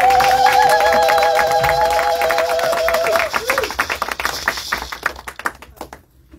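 Easter service congregation clapping to acclaim God, rapid mixed hand claps under singing voices and cheering, fading into scattered claps and then quiet.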